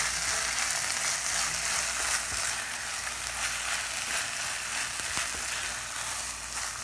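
Scrambled paneer bhurji with coriander is stirred in a pan, giving a dense, steady sizzling hiss with a few soft utensil taps, close and continuous with no voices.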